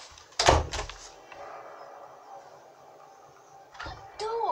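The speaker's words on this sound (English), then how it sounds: "That door is so annoying. It just needs to stay closed." A door in the video game Battlefield 4 thuds shut with a heavy knock, followed by a quiet stretch of game ambience and a second knock near the end, along with some faint game sounds.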